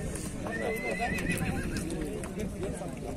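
A horse at a busy livestock market in Talas, Kyrgyzstan, where horses for ulak (goat polo) are traded, whinnying at mid distance amid a steady crowd murmur, with people talking nearby.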